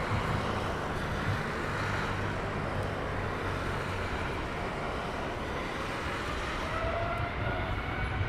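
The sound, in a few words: airliner departing at Heathrow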